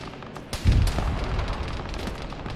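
An armored vehicle fires on a position in an Arma 3 battle, a heavy low boom followed by a rolling rumble and trailing shots, fairly close and loud, with no voices.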